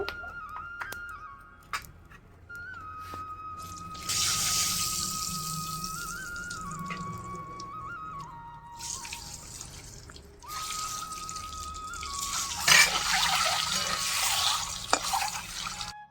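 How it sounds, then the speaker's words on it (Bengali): Eggs fry in mustard oil in a hot pan, a bright hissing sizzle that swells loudly in two long bursts, with a high whistling tone running through and no talking. "তেল দিলাম সর্ষের তেল লবণ দিলাম ডিমগুলো ভেজে নেব"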